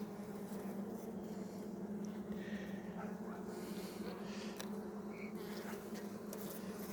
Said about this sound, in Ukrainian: тут одна із наймиролюбних бджіл на пасіці